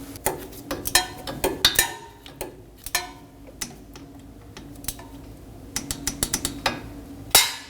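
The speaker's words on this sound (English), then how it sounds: "Hand thread on your bolt. And torque this down to 75 inch-pounds." A ratchet wrench clicking in quick sharp bursts as the ABS wheel speed sensor bolt on a 2020-2027 Toyota Corolla steering knuckle is torqued down, loud and close with short pauses between runs of clicks.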